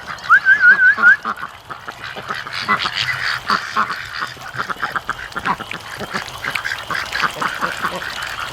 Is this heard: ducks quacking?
yes